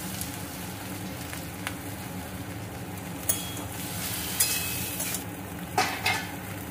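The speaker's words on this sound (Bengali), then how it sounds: "আলুটা পেঁয়াজটা একটু ভাজা ভাজা হয়েছে এবারে ঢেঁড়শগুলো দিয়ে দিচ্ছি" Okra, potato and onion sizzle in a frying pan, a constant crackling hiss close by, with occasional louder clinks and scrapes as a utensil stirs against the pan.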